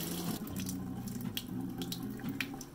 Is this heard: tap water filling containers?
yes